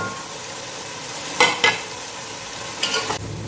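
Spices and masala frying in a pan for beef kofta curry, a soft steady sizzle with a couple of brief scraping stirs partway through.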